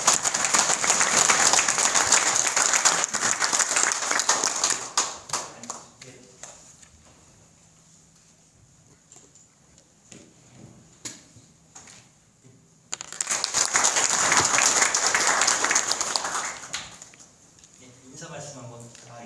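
An indoor audience at a political talk concert bursts into loud, dense applause to welcome a speaker, fades into quieter murmurs and stray claps, then swells into a second strong round of clapping.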